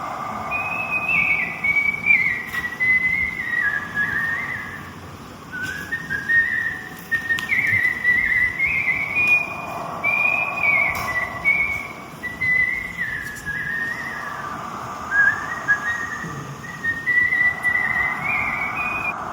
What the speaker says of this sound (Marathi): मी एक शिट्टीवर गाणं तुला म्हणून दाखवतो.